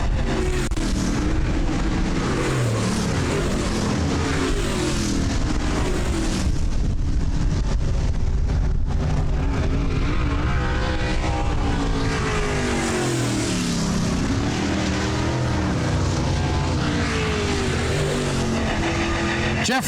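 Wissota late model race cars roar around a dirt track during a heat race. The engine noise is loud and continuous, with shifting, sweeping pitch as cars pass, and there may be a faint announcer voice underneath.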